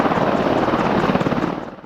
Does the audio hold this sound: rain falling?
no